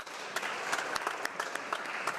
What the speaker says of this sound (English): give a round of applause for the representatives of credit unions visiting Parliament Hill today